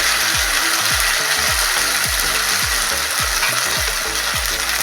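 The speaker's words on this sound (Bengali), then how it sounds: "দিয়ে দেবো আমি যে মশলাটা বেটে রেখেছিলাম তেলের মধ্যে" Ground spice paste with turmeric frying in hot oil for a paneer shukto, a loud continuous sizzle with repeated rhythmic scraping and stirring strokes, up close and without talk.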